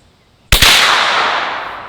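A 9mm round fired from a 12 gauge shotgun gives one sharp, loud, close blast after a moment of quiet, followed by a long fading echo.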